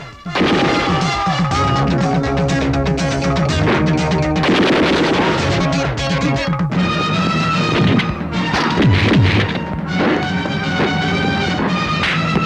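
Gunfire rings out in a police-station standoff from a Tamil action film starring Rajinikanth, loud bursts and crashes that run almost continuously under a dense dramatic music score.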